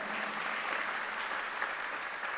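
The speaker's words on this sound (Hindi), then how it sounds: "एक बार इस संस्था के लिए भी तालियां बजाओ" Audience applause for an organization at a religious discourse gathering, a steady wash of many hands clapping together, fairly soft and even throughout with no break.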